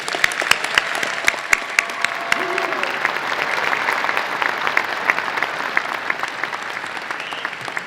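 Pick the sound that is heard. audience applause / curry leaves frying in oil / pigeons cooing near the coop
audience applause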